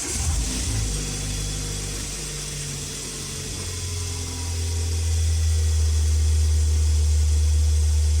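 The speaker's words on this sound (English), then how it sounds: "I'm going to start the engine to see if everything is working properly or not" Renault Laguna engine, just fitted with a new serpentine belt, cranks and starts, then runs with a rising, steady hum that grows louder and settles into an even idle.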